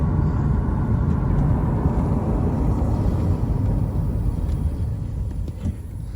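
A steady, loud low rumble of a car rolling and slowing toward a stop, with a rough grinding texture underneath throughout from brakes missing a brake pad.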